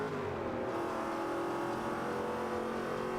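A 1973 Pontiac Firebird Trans Am muscle car in the Forza Motorsport 5 racing game holds a steady, loud engine drone with a rough low rumble, revving continuously and close throughout.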